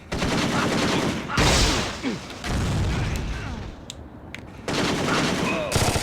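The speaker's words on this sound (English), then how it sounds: "How did that explosion not kill that guy?" Heavy gunfire and explosions in the video game Driver: Parallel Lines, with loud machine-gun bursts and booming blasts coming in dense waves, briefly easing in the middle before surging again, and a voice talking now and then underneath.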